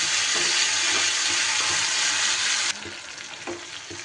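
A spice paste of yogurt, cashew and green chilli sizzles loudly in hot oil in a pan, a dense steady frying hiss that drops noticeably quieter near the end, with faint stirring clinks.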